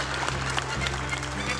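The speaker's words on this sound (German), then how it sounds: "Applaus" Studio audience applause on a German literary television discussion show: a steady, dense wash of clapping that holds at an even level throughout, with no voices over it.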